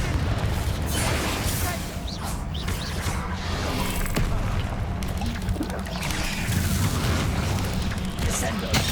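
A Confringo explosive spell blast in the Hogwarts Legacy video game, with dense, loud booming bursts and rumbling over nine seconds, a voice speaking over the continuous game noise.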